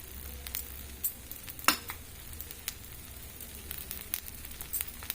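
Pesarattu, a green gram crepe, sizzles in a pan after oil is added, a soft crackling hiss broken by sharp pops and spits, one pop standing out, with no voices.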